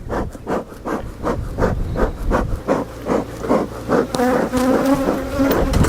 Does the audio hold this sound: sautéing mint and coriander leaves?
no